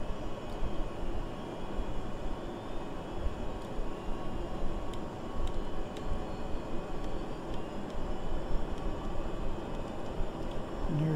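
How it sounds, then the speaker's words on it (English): Propeller engine of an aircraft in the flight simulator MSFS2020 running steadily, a constant broadband drone with a low rumble throughout and no talking. "Here we go, the prop's running."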